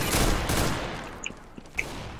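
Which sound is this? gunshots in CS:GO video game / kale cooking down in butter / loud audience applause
gunshots in CS:GO video game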